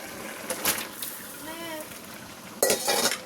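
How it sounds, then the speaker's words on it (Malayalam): Marinated chicken goes into a pan and is stirred, with a spatula scraping and clattering against the metal in two bursts around a soft sizzle, and a brief voice sounding in the middle. "ഇനി നമ്മൾ ചിക്കൻ ഇടാൻ പോവാണ്. പെരട്ടി വെച്ച ചിക്കനാണ്."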